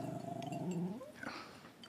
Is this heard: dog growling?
yes